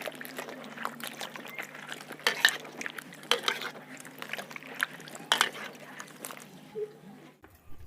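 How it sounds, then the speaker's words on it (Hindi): Cut banana pieces are washed by hand in water, with wet sloshing, splashes and light clinks of a vessel coming in uneven bursts, close up, before everything stops abruptly near the end. "अब हम इसे धो लेते हैं"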